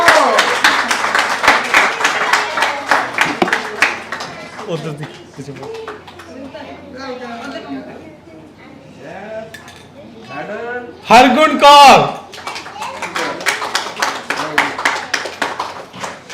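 An audience at an annual art camp and exhibition in Fresno claps in steady applause, which fades under a voice announcing names and then swells again, loud and dense.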